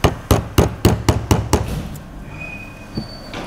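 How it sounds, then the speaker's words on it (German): A small hammer strikes a ceramic piggy bank in a row of about seven sharp, evenly spaced knocks, loud and close, then stops, leaving a faint high whine and one softer knock alone. "Dann hau ich mit dem Hämmerchen ein Sparschwein"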